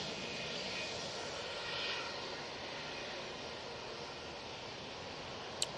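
An airliner departs Manchester Airport, a faint, distant, steady engine rumble with soft hiss that holds level throughout, ending with a brief click.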